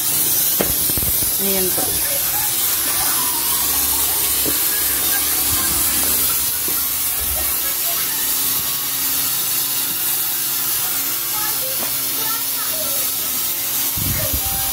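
A fog machine sprays disinfectant mist through a living room as a steady loud hiss that runs the whole time, with a person talking briefly over it.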